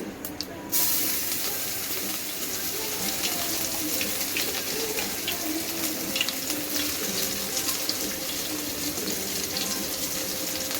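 Cumin seeds crackling in hot oil for a tadka, a dense, steady sizzle with scattered small pops that carries on evenly throughout, close and fairly loud.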